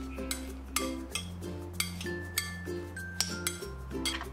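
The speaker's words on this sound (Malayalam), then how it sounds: "ഉപ്പിട്ട ശേഷം നന്നായി മിക്സ് ചെയ്യാം." Chopped onion and salt stirred in a bowl, with a string of sharp clinks and scrapes as a spoon strikes the rim and sides at an uneven pace, close and fairly soft.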